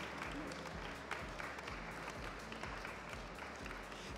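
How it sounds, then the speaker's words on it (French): An audience at a Paris Retail Week 2016 session applauds as a speaker comes on stage. The clapping is steady and dense and lasts the whole clip, with faint crowd murmur underneath. "J'appelle maintenant Céline Delgenès, que je vous demande d'applaudir également, qui arrive en courant."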